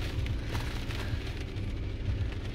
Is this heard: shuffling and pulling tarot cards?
no